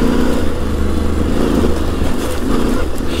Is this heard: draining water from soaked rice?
no